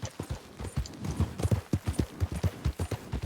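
Horse hooves in Red Dead Redemption 2 thud in a close, even clip-clop, roughly three to four strikes per second, loud and clear with almost nothing else over them.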